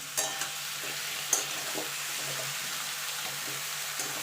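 Vegetables such as carrots and beans are stirred in a hot frying pan, giving a continuous close sizzle with light scraping strokes and occasional clinks of the spatula.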